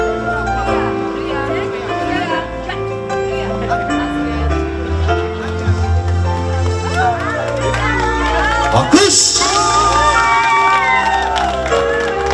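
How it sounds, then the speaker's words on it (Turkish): Crowd applause and cheering for a boy at a Turkish circumcision celebration in Rotterdam, loud and continuous with music and voices mixed in, swelling near the end. "Kocaman alkışlarımız gelsin bu güzel çocuğumuza."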